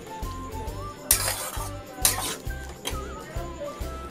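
Spoon stirring egg tadka with spices in a pan, rhythmic scraping strokes with a couple of sharper metallic clinks, close and moderately loud against soft background music.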